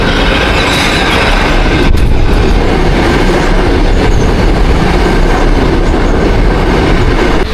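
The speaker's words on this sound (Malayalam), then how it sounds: "സിറ്റിയിലുള്ള മെട്രോ എടുത്ത് പോകാനായിട്ട് പോകുന്നു" Loud, continuous roar of a New York City subway train running, with rumbling wheels and faint rhythmic clatter, heard close from inside the car.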